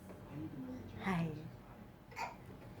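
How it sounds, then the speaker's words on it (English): A small child hiccups twice, one sharp hiccup near the middle and another shortly after, close and fairly quiet over soft background noise. "Hiccups."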